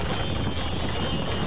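Horse galloping during a race in Red Dead Redemption, continuous rapid hoofbeats close and loud with no talking over them.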